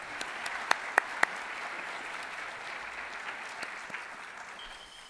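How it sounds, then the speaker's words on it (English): Audience at an alumni awards ceremony gives another round of applause after a performance, a steady even wash of clapping from a large room with a few sharp nearby claps standing out early on. "Would you join me in giving them another round of applause"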